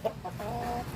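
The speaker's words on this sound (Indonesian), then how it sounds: "ini ayam-ayam yang baru lahirnya juga ya" Chickens clucking close by, including newborn free-range village chicks, with short peeping calls and a sustained chirping note over a low farmyard background.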